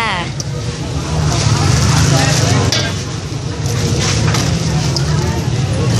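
Catfish being stir-fried at a market food stall, a steady sizzle with scraping and stirring in the pan, close and fairly loud, with voices and street traffic around it.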